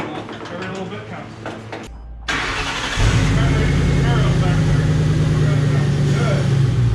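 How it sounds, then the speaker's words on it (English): A 1996 Ford Mustang engine cranks and catches, then settles into a loud, steady rumbling idle close by, with voices heard over the start. "Sounds like every 96 Mustang ever been."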